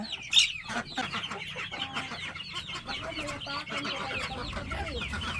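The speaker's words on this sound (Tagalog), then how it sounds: "Mga excited na itong mga manok." A group of chickens clucks and chatters busily up close at feeding time, overlapping calls in a lively, continuous stream with no talking.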